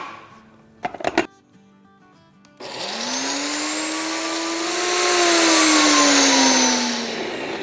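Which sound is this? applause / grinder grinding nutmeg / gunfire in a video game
grinder grinding nutmeg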